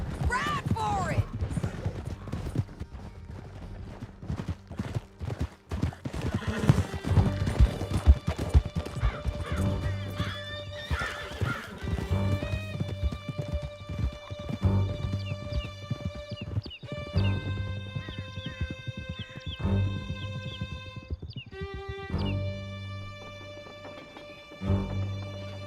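Horses gallop across a canyon in Red Dead Redemption 2, their hooves pounding in a steady, rapid rhythm with occasional whinnies and crashes, while people speak over the ride and music swells near the end.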